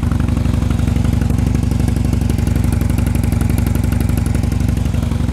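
Harley-Davidson Dyna motorcycle engine idling after a crankcase repair and oil refill, a loud, steady, close thumping rhythm with a clattery mechanical edge throughout, no voices.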